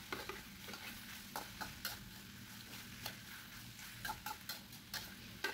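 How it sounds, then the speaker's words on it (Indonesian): Fried tempeh being reheated and stirred in a pan, a soft steady sizzle broken by repeated light scraping and tapping strokes of a utensil, close and fairly quiet with no voices. "Saya panasin lagi, setelah itu baru saya masukkan tempe yang sudah saya goreng semalam."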